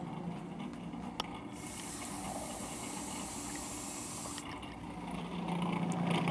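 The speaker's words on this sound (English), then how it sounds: "Gonna continue by adding more water into the feed tube, through the feed tube" Water runs into the feed tube of a Cuisinart FP-14DC Elite Collection 14-cup food processor while dough mixes. A soft hissing trickle lasts about three seconds over a low, quiet motor rumble.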